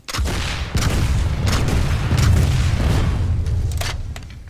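Striker rocket launcher in Planetside 2 firing a rapid volley of rockets: loud overlapping booming launches with sharp onsets, merging into a sustained roaring rumble that fades slightly at the end.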